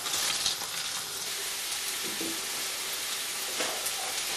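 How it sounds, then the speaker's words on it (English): Leeks gently sautéing in melted butter in a heavy-bottomed pan give a dense, continuous close sizzle and hiss, with a few faint utensil clicks and no speech. "melt a big lump of butter in a heavy bottom pan and gently saute the leeks in it for about 4 minutes"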